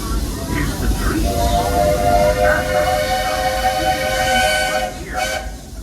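Walt Disney World Railroad steam train riding through Magic Kingdom, a steady rumbling roll with hiss and a sustained whistle-like tone, recorded from on board, loud and continuous throughout.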